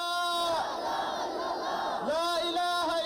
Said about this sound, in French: C'est une foule immense qui a déferlé à la place de la Nation pour marquer sa solidarité au peuple